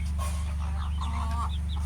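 Several native chickens on a farm cluck and warble close by in short, overlapping calls over a constant low electrical hum.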